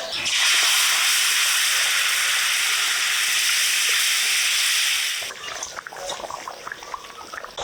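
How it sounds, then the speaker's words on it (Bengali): Cooked mutton curry poured from a pot into a hot kadai of fried onion, chilli and whole spices, sending up a loud, steady hiss of sizzling for about five seconds that then breaks into softer crackles and spits. "এবার হাড়ির তরকারিটা কড়াইতে ঢেলে দেবো"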